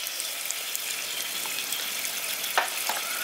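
Whole spices sizzling in hot oil for a village-style Bengali bata fish curry, a steady close frying hiss with a few brief pops and no talk.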